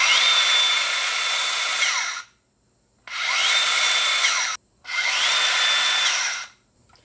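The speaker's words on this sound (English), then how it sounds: "There is an electronic brake which stops this very quickly and immediately." A DeWalt DCS571 4 1/2-inch compact circular saw spins up with a high whine three times, each run cut short abruptly as its electronic brake halts the blade within a moment.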